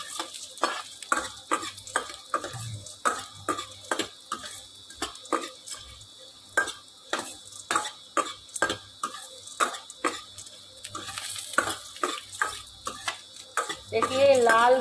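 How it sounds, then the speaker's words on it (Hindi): Mangodi lentil dumplings fry in a pan while a spoon stirs them in quick, repeated scrapes and knocks over a constant sizzle, close and clear, with no voices. "इसमें डालते हैं मंगोड़ी, इसको बहुत जल्दी भुन जाती है, इसलिए चलाते रहना"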